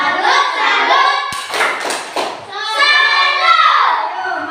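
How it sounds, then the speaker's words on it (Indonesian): A classroom of children performs the rhythmic 'tepuk salut' clapping chant, chanting in unison with sharp group claps in the middle, loud and close. "Mari kita tepuk salut."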